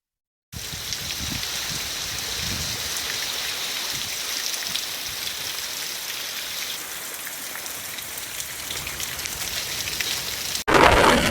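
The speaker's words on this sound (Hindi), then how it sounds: "बारिश भी शुरू हो गई है" Steady, close rain patters and hisses through a Pakistani forest, a dense continuous wash that holds evenly for about ten seconds before a sudden louder burst at the end.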